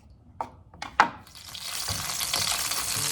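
Garlic sizzles in a pan while pasta with dried zucchini and carrots is made, a few sharp clinks and a stir early on giving way to a steady, close hiss of frying.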